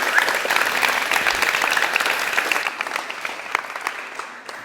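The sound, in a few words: audience applause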